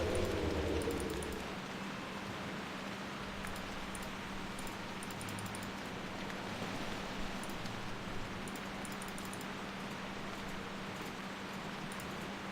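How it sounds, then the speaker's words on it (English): Steady soft rain patters down in World of Warcraft, a quiet, even hiss of falling drops that holds for the whole stretch with a faint low hum underneath and small chiming tones now and then. "Why has it just started raining all of a sudden"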